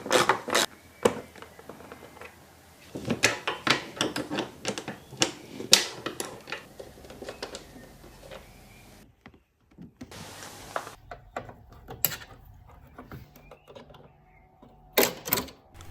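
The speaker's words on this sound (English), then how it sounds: "I first have to take off the right hand side fairing by removing 3 screws and 2 plastic clips." Screws and plastic clips come off the right-hand fairing of a Yamaha Tenere 700 motorcycle in a string of close, sharp plastic clicks and ticks, irregular and quiet, with short pauses between bursts.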